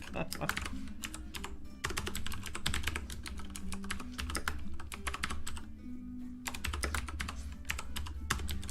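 Steady, close computer keyboard typing runs throughout, a quick continuous patter of key clicks with brief pauses, moderately quiet and mostly on its own with little other sound.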